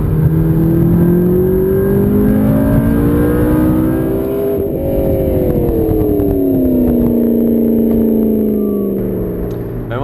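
A McLaren MP4-12C Spyder sports car drives under power, its engine a loud, close, continuous drone that rises and falls in pitch as it revs through the run.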